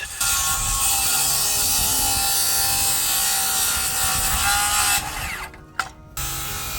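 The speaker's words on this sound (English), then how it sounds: "Cutting the side rail supports, 20 degrees on one end." A saw cuts through salt-treated 2x4 side rail supports at a 20-degree angle for a DIY ramp, a loud steady rasping grind for about five seconds before it tapers off and stops abruptly, leaving a brief quieter tail.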